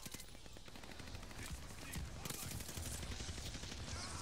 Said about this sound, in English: Just these shotguns everywhere